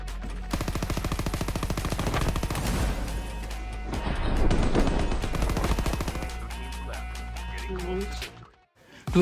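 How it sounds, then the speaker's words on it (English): A mobile battle royale game plays rapid bursts of gunfire as a player aims and shoots at enemies, with clustered sharp shots over game sounds and a quick fade at the end. "it helps a lot to aim at your enemy and shoot your enemy"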